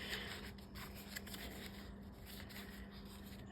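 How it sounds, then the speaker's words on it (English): Paper is creased along score lines during card-stock crafting, giving soft, close rustles and scraping crinkles in a quiet room. "So let's start with bending all of our score lines here."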